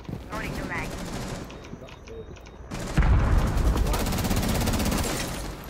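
Shotgun blasts and rapid gunfire ring out during a Rainbow Six Siege round, loud bursts crowding together with a heavier volley in the second half, while players talk over the shooting.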